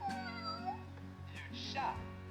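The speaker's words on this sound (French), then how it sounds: "Le chat." A cat meows several times indoors, drawn-out tonal cries mixed with a voice.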